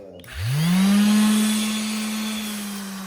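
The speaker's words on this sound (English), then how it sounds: "You want to keep the sander as level as possible because you don't want to create divots in the panel" A power sander spins up on water-damaged MDF cabinet panel with 80 grit paper, rising quickly to a loud, steady whine with gritty abrasive hiss, running close and alone.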